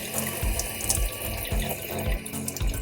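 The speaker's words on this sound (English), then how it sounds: "I'm going to take it under the water and just back and forth" Tap water runs steadily into a sink while a soapy makeup brush is rinsed back and forth beneath it, with rhythmic low splashing pulses and no talk.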